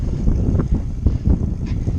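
Strong gusting wind buffeting the microphone during a bicycle ride, a low rumbling roar that pulses irregularly and stays loud throughout.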